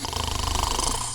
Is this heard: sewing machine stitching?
no